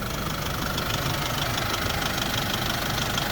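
A 2014 SsangYong Rodius Turismo with a 2.1 Mercedes diesel engine idling, giving a steady, loud, close diesel clatter with an even knocking rhythm and no other sounds.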